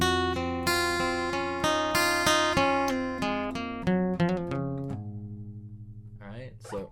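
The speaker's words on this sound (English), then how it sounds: "It's really more of just a bass note that rings out and then a line" A plucked guitar bass note rings out, followed by a short melodic run of single notes, clear and close with no voices.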